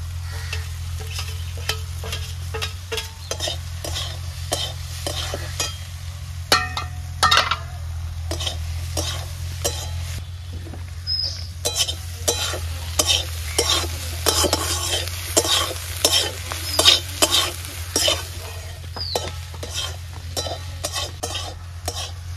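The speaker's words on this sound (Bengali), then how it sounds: "ভেজে রাখা ডিমটা দিয়ে দেবো।" Banana flower frying in a pan with fried egg and a little turmeric stirred in, a steady close sizzle under repeated scraping and clinking strokes of a utensil against the pan.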